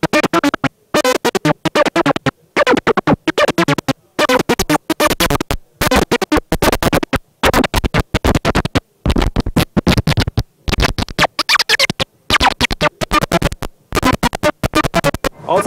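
LL Electronics Oddulator synthesizer running at high speed into harsh scratchy noise, loud choppy bursts broken by abrupt short gaps in a stuttering rhythm throughout, close and alone without talking.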